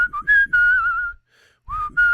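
A single person whistles the melody of a song from Encanto, clear close tones in short phrases with brief breaths between notes and a pause midway, no other sounds or talking.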